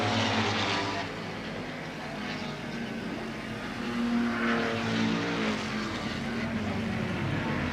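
Touring race cars at a 1971 meeting at Warwick Farm sweeping through fast bends, engines roaring past with rising and falling pitch, fairly loud and continuous with no talking.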